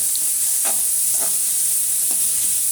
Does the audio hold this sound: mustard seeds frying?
yes